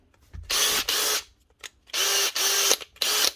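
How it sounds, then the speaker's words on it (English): Makita cordless drill, model 459, whirring in several short bursts with brief pauses between, a close, loud motor whine starting and stopping in quick succession. "Next up, Makita cordless drill."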